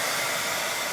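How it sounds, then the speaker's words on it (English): A hair dryer runs with a steady, even blowing hiss for about a second. It sounds close and fairly quiet. "You need the hair dryer?"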